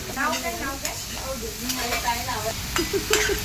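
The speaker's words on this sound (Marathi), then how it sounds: "कांदा बघा छान परतून घेतोय कांदा आता" Onion sizzles steadily in a pan as it is stirred for prawn masala, a close hiss with soft scraping while a person talks over it.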